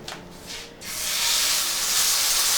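Angus steak searing in a hot pan of rendered Wagyu fat, a loud steady sizzle and hiss that swells after a brief quieter start and holds close and constant.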